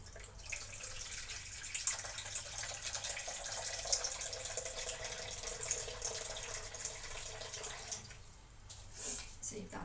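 Tap water runs steadily into a bean-sprouting glass in a home kitchen, a continuous close hiss and splash that tapers slightly near the end, with people talking over it.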